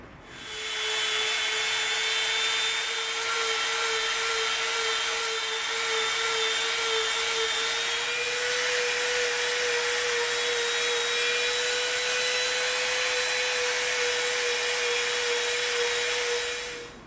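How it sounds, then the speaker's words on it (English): A Dremel rotary tool grinds and tapers an EVA foam knife blade, giving a steady high-pitched whine with a lower hum that runs unbroken for the whole stretch, close and fairly loud. "Now when we start dremeling"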